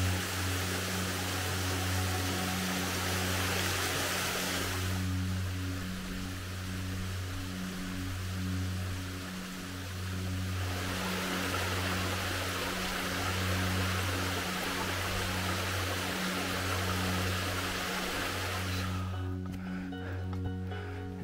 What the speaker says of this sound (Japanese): この滝は天狗の滝というみたいですね。